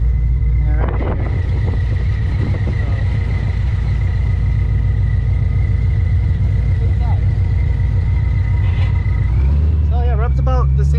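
A 2014 Ford GT500 with a Magnaflow Street series exhaust rolls over a large speed bump, a loud, constant low engine drone with rumbling bumps and a rising rev near the end.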